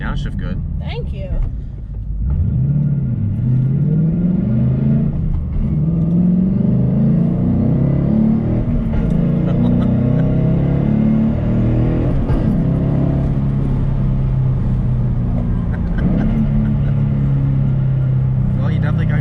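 A Ford Mustang GT engine revs hard through a downshift, its loud, close exhaust note sweeping up and falling back in repeated waves over a steady rumble, with a voice faintly present at times.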